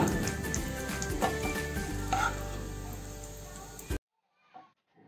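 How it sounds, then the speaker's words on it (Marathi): Raisins fry in a pan, a close, busy crackling sizzle with small pops for a few seconds before it stops abruptly, leaving near silence and a faint sound. "आता मणुके तळून घेऊया त्याच्यामध्ये"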